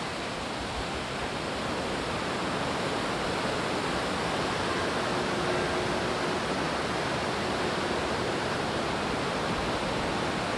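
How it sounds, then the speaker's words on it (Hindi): A large waterfall heard up close on the way to Kalpeshwar Temple in Uttarakhand's Urgam Valley, a loud, steady, unbroken roar of crashing water filling the whole stretch with no voices. "देखिए बड़ी झरना को नज़दीक से"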